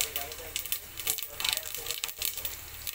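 Cardamom, cloves, dried red chillies and whole cumin crackle and sizzle in hot oil for khichuri, a steady close frying hiss with small sharp pops throughout.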